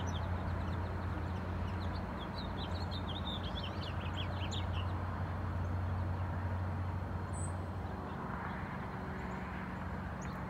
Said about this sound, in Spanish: Se oyen los pajaritos cantando